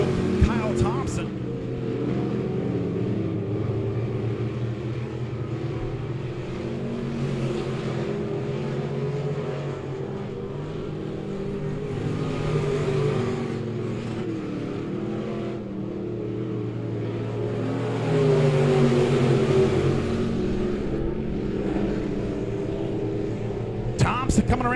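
Dirt-track race cars lap Monett Raceway, engines swelling and fading as they roar past in repeated waves, heard under a public-address announcer calling the race.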